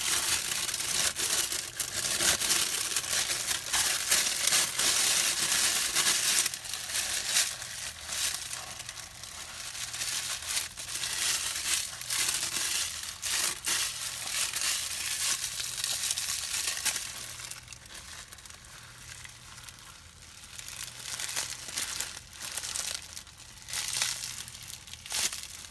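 A plastic cooking pot liner bag crinkles and rustles steadily as it is handled in a kitchen, a close, continuous crackling texture that softens briefly near the end before picking up again, with no talking.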